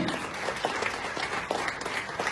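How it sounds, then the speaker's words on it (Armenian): A crowd applauds at an awards ceremony, a continuous wash of clapping with scattered sharper claps, fairly close and sustained. "Ծափահարենք մեր"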